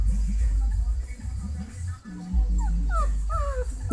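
Pit bull puppies whimper and yip in thin rising whines, several short cries in the latter half, over a low background rumble and occasional talk.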